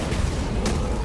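The house cannon fires in Killing Floor 2, a heavy booming blast over a deep rumbling low end, with one sharp burst cutting through partway.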